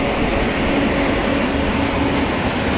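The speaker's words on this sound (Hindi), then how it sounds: "सामने देखो एक और ट्रेन को हम ओवरटेक मार रहे हैं यार" Passenger express train on the New Delhi to Patna route rumbling steadily while overtaking another train, a loud continuous rolling roar heard from inside the carriage with no talking.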